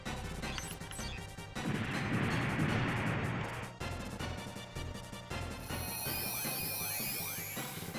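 A unit fires a shot in the Front Mission video game: a loud, crunching crash bursts in the middle over game music and ends abruptly. Bright, chiming tones follow it.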